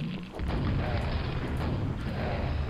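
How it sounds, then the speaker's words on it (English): A rocket launcher firing in the Arcane Dimensions Quake mod, a heavy, boomy blast that sustains as a dense rumbling roar, loud and close with no talking. "Fire two rockets, then finish off the Stone Dread Knight with the Widowmaker."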